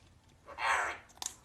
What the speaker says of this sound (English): You guys hear that crunching?